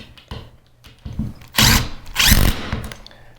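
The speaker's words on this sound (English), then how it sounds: "I'll grab the trusty drill and let's tighten them up to the ceiling." A cordless drill drives ceiling fan mounting screws into the ceiling in short, close bursts, two longer loud whirring runs in the middle and briefer blips before and after.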